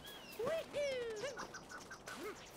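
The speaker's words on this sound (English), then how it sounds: "I'm just trying to go after this bird for the moment." A bird in the Super Mario Odyssey video game gives a few quacking, squawking calls with gliding pitch, fairly faint, heard amid quiet game sounds.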